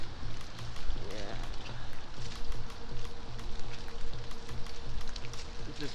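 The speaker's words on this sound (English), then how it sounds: "I don't mind rainy weather." Steady rain falls on a city street in Portland's Nob Hill neighborhood in autumn, a continuous close hiss with faint passing traffic underneath.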